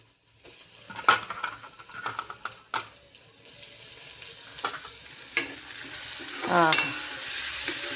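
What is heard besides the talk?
tomato added to pan, frying and sizzling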